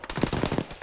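A rapid burst of automatic gunfire rattles in a military video game, several sharp shots in quick succession within under a second.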